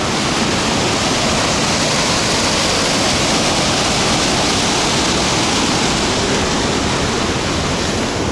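Powerful dark water pours through a dam on the Khadzhibey estuary, a loud, dense, unbroken roar that fills the whole stretch without any talking.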